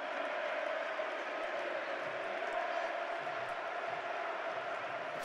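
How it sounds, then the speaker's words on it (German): Football fans singing in the stands at an FC Augsburg versus FSV Frankfurt match, a broad, steady crowd chant filling the stadium from a distance and holding at an even level throughout. "was die Fans hier singen"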